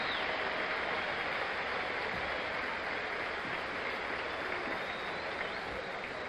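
A large football stadium crowd at Soldier Field applauds and cheers at halftime of a Chicago Bears vs. Detroit Lions game, a steady, distant wash of clapping and crowd noise that holds level for the whole stretch.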